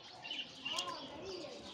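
Turtle doves of several breeds kept in a home aviary coo softly in short calls, with faint chirps and a brief flutter mixed into a busy background.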